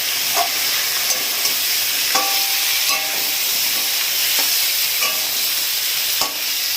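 Tangra fish curry with elephant foot yam and turmeric sautés in a pan, with a loud, continuous sizzle broken by regular clinks and scrapes of stirring.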